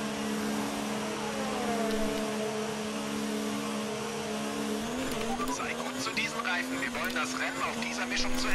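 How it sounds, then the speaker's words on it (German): Race cars in the F1 2019 video game roar past, a steady engine whine rising into several quick revving passes and tire squeals toward the end, heard under speech in the room. "Achso, da kommen lauter Autos."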